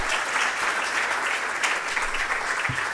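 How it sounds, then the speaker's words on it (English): Steady, dense applause from an audience at a 2024 closing ceremony, a continuous wash of many hands clapping at even loudness throughout. "So let's give them a round of applause."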